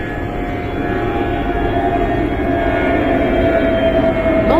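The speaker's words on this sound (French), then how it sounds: "comme d'habitude, il y a un avion qui passe" An airplane passes overhead with a steady, broad rumbling roar that grows slightly louder through the stretch, no voices heard over it.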